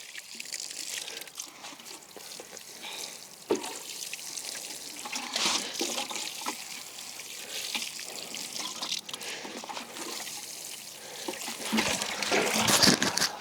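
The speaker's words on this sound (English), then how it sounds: "And we add some water to the trench." Water is poured from a container into a shallow trench of freshly covered garden soil while sowing salad seeds in July, a steady close trickling splash lasting the whole stretch with a few louder gushes and no talking.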